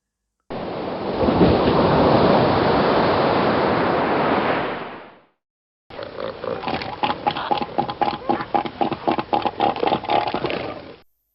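A seal bellows in two bursts: first a long, broad roaring groan, then after a short pause a rapid series of guttural, pulsing grunts, loud and close with no talking.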